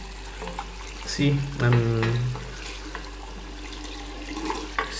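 Water runs from a tap over a Samsung S7 Edge phone during a water resistance test, splashing and gurgling up close with a steady hiss, while a person speaks briefly.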